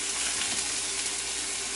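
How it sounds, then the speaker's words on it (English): Onion and garlic sizzling and frying steadily in a hot pan, a continuous close crackle with no talking. "You can hear my onion and my garlic sizzling."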